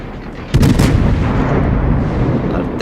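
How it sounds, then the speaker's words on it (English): Battleship armor-piercing main guns fire a volley in World of Warships, a loud, close, booming blast that breaks out of a steady background rumble and rolls on into a sustained roar. "here comes the armor-piercing volleys"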